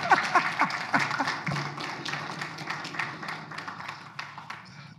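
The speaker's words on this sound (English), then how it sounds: "Give him a hand and clap of praise." Lively applause and hand clapping from a church congregation, a dense patter of many claps at moderate distance with faint voices mixed in.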